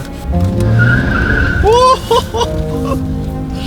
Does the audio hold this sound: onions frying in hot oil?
no